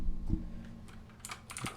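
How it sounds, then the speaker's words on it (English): Keys on a mechanical computer keyboard are typed in a few quiet, scattered clicks and taps, with short gaps between them. "I'm going to swap out my keyboards here so I'm not pounding away on a mechanical board."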